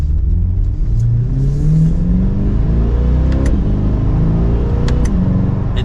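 A Chevrolet Corvette C8 with its mid-mounted engine revs up loud and close, pitch sweeping upward in a rising rumble with no talk over it.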